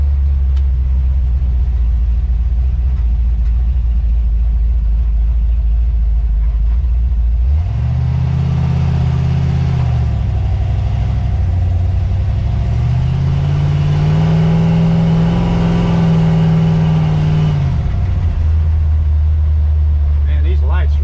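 Old truck with a small-block Chevy roller cam engine, a low loud rumbling drone that rises and falls as it accelerates on the road, with talking over the steady engine noise throughout.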